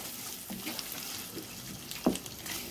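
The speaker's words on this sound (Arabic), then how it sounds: "صافي كنبقى نبدا نحرك." A spoon stirs rice in a cooking pot with faint sizzling and watery scraping, continuous and close, with one sharper clink near the end.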